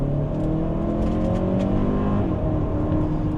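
A 2024 Hyundai Santa Fe Calligraphy's engine note climbs steadily as it accelerates hard in sport mode, a loud continuous roar with rising tones and a brief shift, heard close from inside.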